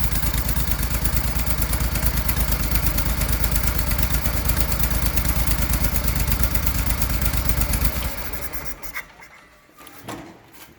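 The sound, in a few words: garden tractor engine idling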